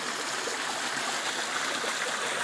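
Water flows steadily through rocky natural channels, a continuous broadband rushing and trickling that holds even throughout, with no voices.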